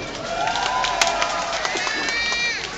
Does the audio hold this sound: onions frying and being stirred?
no